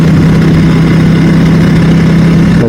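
A motorcycle with an Akrapovic exhaust idles loud and close, a steady deep drone with a strong low hum that holds even for the whole stretch.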